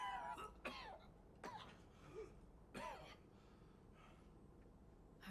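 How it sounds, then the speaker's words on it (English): Male Shepard coughing in the video game Mass Effect 3: several harsh, close coughs and throat-clearing bursts come at irregular intervals over quiet background ambience. "His coughing there was a lot better than Fem Shep's."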